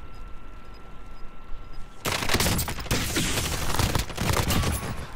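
Heavy gunfire in Call of Duty Modern Warfare, quiet at first and then a dense, continuous burst of rapid shots and blasts that stays loud and close to the end.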